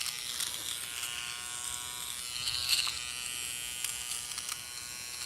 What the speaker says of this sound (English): I know they say you shouldn't be trimming your nose hair